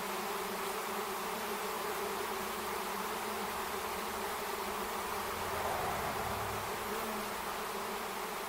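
A honey bee swarm flies between apple trees in June, a steady, dense buzzing drone from many bees that holds evenly throughout, close and fairly loud with no voices.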